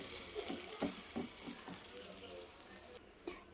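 Tamarind and green chili chutney going into a hot pan, giving a wet, bubbling sizzle with several soft splatting pulses, steady and close, then a sudden cut to quiet near the end.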